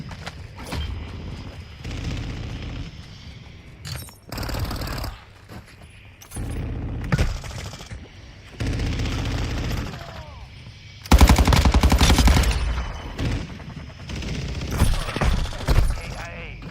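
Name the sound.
full-auto gunfire in the video game Call of Duty Modern Warfare II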